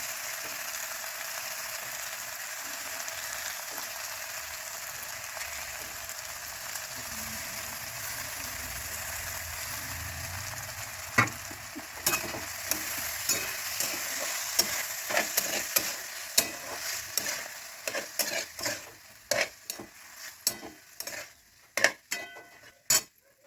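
Washed cluster beans (gavar) frying in a pan for a potato and gavar dish, a low steady sizzle that later turns busy with repeated sharp clicks and scrapes of a spoon stirring against the pan.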